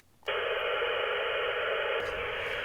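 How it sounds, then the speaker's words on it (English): UHF radio hiss with the squelch turned off bursts in suddenly as a steady, loud rush of static, then shifts slightly near the end, with no voices. "I have disengaged squelch and it is noisy"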